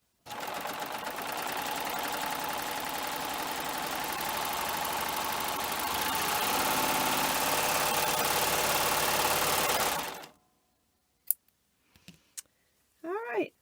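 A serger fitted with a belt loop binder stitches a test strip, a steady loud mechanical whir running continuously for about ten seconds before stopping, followed by a few faint clicks and small handling noises.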